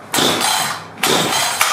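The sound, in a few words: Husqvarna 562xp chainsaw engine chugging while starting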